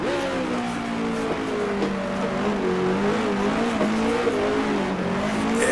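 A 1966-era race car in the Grand Prix Legends video game, racing the Australian Grand Prix of the Tasman Series, downshifts to third gear. Its engine drones steadily and loudly, with small dips and rises in pitch and no talk over it.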